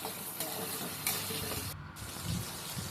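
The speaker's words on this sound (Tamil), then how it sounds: "போட்டு நல்லா வதக்கிடணும்." Shallots, garlic and curry leaves sauté in a pan for kara kuzhambu, giving a quiet, steady sizzle broken by soft scrapes and knocks from stirring.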